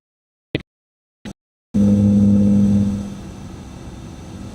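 A truck engine revs up loudly after two brief knocks, holding a steady droning hum, then eases off as the truck coasts at low speed with a quieter rumble.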